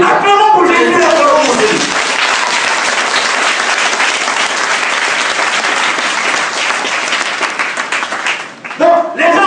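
A church congregation bursts into loud, sustained applause and cheering for Jesus, a dense wash of clapping that lasts several seconds before fading, with a preacher's voice heard briefly before and after.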